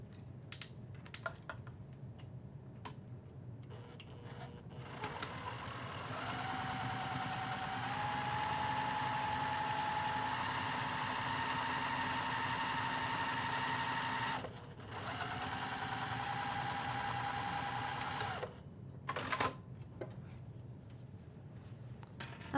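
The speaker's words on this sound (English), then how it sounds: "I'm just going to sew this top edge using my regular stitch length and 1/4 of an inch seam allowance." A sewing machine stitches the top edge seam of a bag slip pocket at regular stitch length, a steady whirring run of about twelve seconds with a short pause, framed by soft handling clicks.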